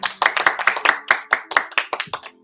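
A small group claps in quick, uneven bursts, close and fairly loud, tapering off at the end.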